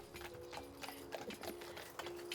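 Horse hooves clip-clop on a street as a horse-drawn carriage moves off, a steady run of quiet, fairly close hoof strikes over a faint background hum.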